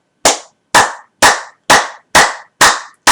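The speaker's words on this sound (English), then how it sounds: "all they have to do is take both their hands and clap it with the fingers" One person claps hard with the fingers striking each other as an exercise, producing seven loud, crisp, evenly spaced claps about half a second apart, close and alone.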